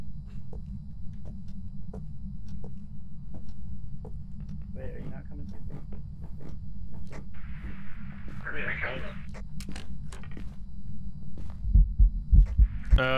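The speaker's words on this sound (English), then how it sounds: "I just heard my heartbeat." A low, steady heartbeat thump from the Phasmophobia horror game runs throughout, a throbbing pulse under scattered clicks, brief footsteps and bursts of noise.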